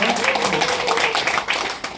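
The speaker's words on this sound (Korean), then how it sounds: "커다란 박수 함성으로 격려해 주시기 바랍니다" Audience applause mixed with cheering fills a ceremony hall at a regional development foundation event, a dense steady wash of clapping and shouts that holds loud throughout.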